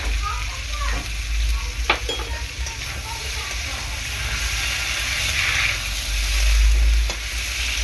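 Chili powder and spices for rui fish curry sizzle and fry steadily in a pan while being stirred, with a few utensil scrapes and clinks over the continuous hiss.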